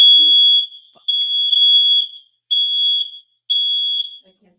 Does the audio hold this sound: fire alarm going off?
yes